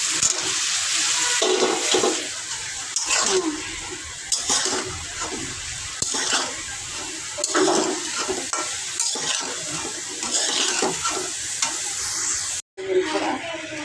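Vegetable stems sautéing in a pan give a steady, close sizzle, with repeated scraping stirs and clinks of a utensil against the pan throughout and a brief cut near the end.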